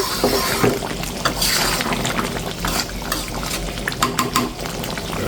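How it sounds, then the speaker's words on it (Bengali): Duck meat simmering in hot coconut milk being stirred in a pot, with close, irregular bubbling, liquid sloshes and scraping stir strokes at a moderate level. "জালটা বাড়িয়ে দেওয়ার সাথে সাথে ফুটে উঠেছে, কারণ আমার নারকেলের দুধটা একদম গরম জল দিয়ে তৈরি করা"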